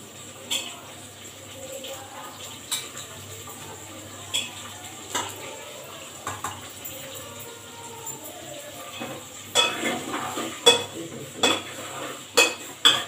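Cabbage and onion being stirred in hot oil in a pan, scattered spoon scrapes and clinks against the metal over a faint sizzle, growing busier and louder toward the end.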